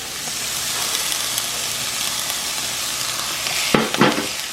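Garlic fries in oil in a pot for a Jamaican jerk jackfruit dish, a steady close sizzle with a soft hiss, ending in a couple of scraping stirs near the end; no talk.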